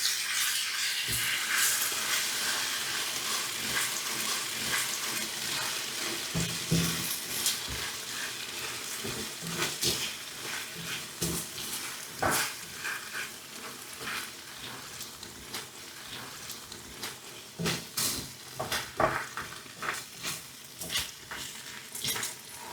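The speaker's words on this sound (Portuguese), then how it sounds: "Agora adicionar todo o molho, só uma misturada. E vamos adicionando pouco a pouco e misturando." Sautéed vegetables sizzle and fry in a pan as sauce is stirred in, a steady close hiss with scattered scraping and stirring clatters throughout, no talking.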